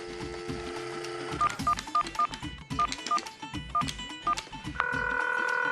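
Touch-tone dialing beeps in a quick series, then a steady ringing tone begins near the end.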